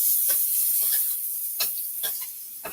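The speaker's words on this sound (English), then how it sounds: "squash, browning it up" Squash browning in a pan, a steady bright sizzle with occasional sharp clicks and taps of stirring, close and fairly loud, no voices.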